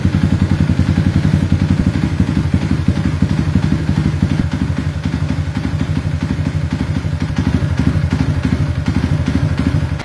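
A motorcycle engine idles close by, a loud, steady, rapid lumpy thumping that holds its rhythm throughout with no talk over it.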